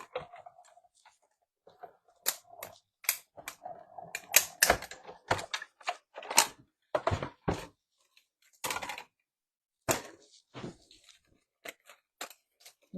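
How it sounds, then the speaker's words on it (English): An electronic die-cutting machine cutting out paper, giving sharp, irregular clicking and rasping bursts separated by short gaps, close and fairly quiet with no voices. "And now I'm going to cut with my machine."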